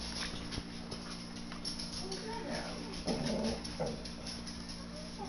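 Angry puppies growl and whimper in short bursts, mid-distance and fairly faint, over a steady background hum, with a person's voice speaking between the sounds.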